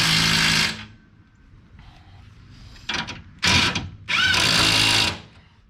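A power tool tightening bolts on an RV bumper, buzzing in loud bursts: one long run, a pause, then three short rattling pulses, the last held for about a second before stopping.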